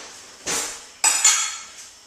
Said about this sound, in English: I'm going to get a spoon so I can taste it